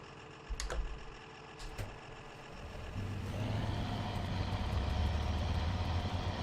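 Gravedigger stadium monster truck in the Spintires off-road mud game, its engine idling with a low steady rumble that swells louder after a few seconds, with brief clicks early on and no talk.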